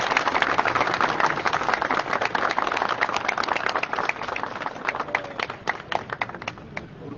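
Steady clapping from a small crowd at a ribbon-cutting opening of a lounge, dense at first and thinning toward the end into scattered individual claps.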